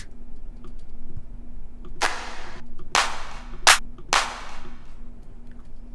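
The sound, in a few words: clap sample in a future bass drop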